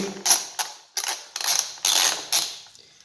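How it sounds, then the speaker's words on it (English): A 10mm ratchet loosening rear fender bolts on a 2019 Yamaha TW200 motorcycle, giving six close, crisp bursts of clicking pawl at an irregular rhythm, with short pauses between strokes. "you're going to take your 10mm ratchet and you're going to remove these two bolts for your rear fender that go into the subframe"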